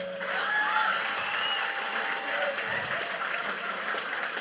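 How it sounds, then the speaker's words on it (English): An audience applauds steadily at a celebration of Dr. Cheddi Jagan's life and legacy, a soft, even patter of many hands that holds at the same level throughout. "A round of applause to that"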